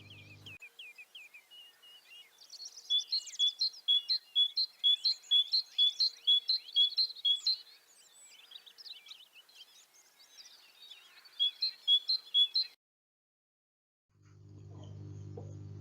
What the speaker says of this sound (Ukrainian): Ось і пташки закликають вже весну, весело щебечуть.